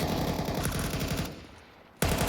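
Rapid bursts of M4 rifle fire in Counter-Strike 2 during a pro match, loud and dense for over a second, then a brief lull before another burst cuts in sharply.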